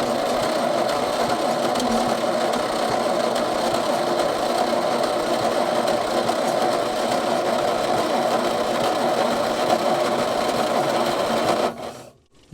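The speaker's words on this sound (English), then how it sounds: "It's still doing its old stunt blowing back through the carburettor." A sixty-year-old dump truck that sat for years cranks over with its engine blowing back through the carburettor, a loud steady mechanical churn that runs unbroken for about twelve seconds, then cuts off abruptly.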